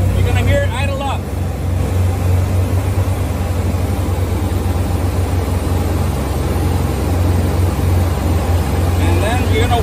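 A Sullair 185 T4 portable air compressor's engine runs loud and close in a steady low diesel rumble, holding its idle throughout with brief higher chirps near the start and end.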